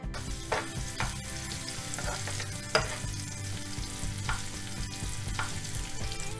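Whole spices (black peppercorns, cloves, a black cardamom and a cinnamon piece) fry in a pan for a Hyderabadi paneer masala, giving a steady close sizzle with light stirring scrapes and a few sharper crackles.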